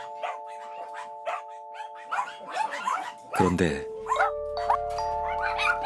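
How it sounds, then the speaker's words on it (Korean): Dogs bark in bursts from the pitch-dark interior of an abandoned vinyl greenhouse, the yaps repeated and fairly close, layered over a steady electronic hum, with a loud clatter midway and a person speaking briefly. "앞을 분간할 수 없는 어둠 속에서 개 짖는 소리가 들립니다"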